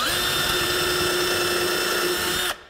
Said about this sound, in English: got my small drill set up so I can just go ahead and drill some holes here